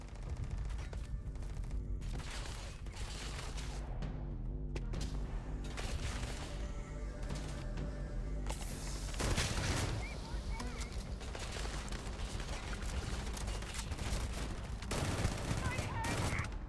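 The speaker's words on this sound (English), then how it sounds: "Oh, that's Sarah I was shooting at" Gunfire in the space game Starfield comes as bursts of rapid shots and booming blasts, loud and dense through most of the stretch, with heavier volleys near the middle and end.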